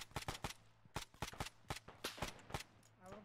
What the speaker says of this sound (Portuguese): É tiro sem ser silenciado.